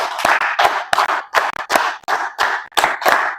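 Rhythmic hand clapping from a group playing a counting clap game in a school science lesson, about nine sharp, close claps in quick uneven bursts, with no talking.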